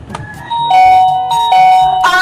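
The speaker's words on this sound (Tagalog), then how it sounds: "May nag-doorbell sa gate!" A doorbell at a gate rings out in a series of loud, clear electronic chime tones that repeat in a rising melodic pattern, close and alone with no voices.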